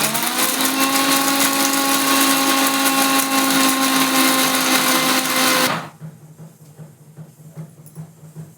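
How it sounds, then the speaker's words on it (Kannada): A mixer grinder whirring loudly as it grinds fresh and dry coconut together, a steady high motor drone that cuts off abruptly near the end, leaving a quiet room. "ಆಮೇಲೆ ಸ್ವಲ್ಪ ಸ್ವಲ್ಪ ಹಸಿ ಕೊಬ್ಬರಿ ಆಮೇಲೆ ಸ್ವಲ್ಪ ಒಣ ಕೊಬ್ಬರಿ ಹೆರ್ಚಿಟ್ಟಿದ್ದು ಮಿಕ್ಸಿ ಮಾಡಬೇಕು ಎರಡು ಕೂಡಿ ಮಿಕ್ಸಿ"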